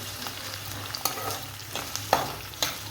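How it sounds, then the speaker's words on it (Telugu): Three onions frying in a pan for a country chicken curry, a steady close hiss of oil with sharp clicks of a spoon stirring through them. "ఇప్పుడు ఆనియన్స్ ఫ్రై అవుతున్నాయి కదా"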